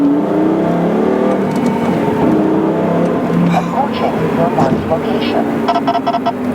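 A Lamborghini Gallardo with the e-Gear transmission revs loudly up close, its engine rising and holding in a strong roar while a person talks over it.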